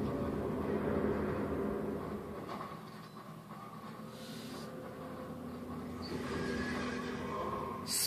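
Spicy Horse logo sting from Alice: Madness Returns, a horse whinnying clearly over a rumbling musical backdrop, the neigh stretching out near the middle before the sound settles.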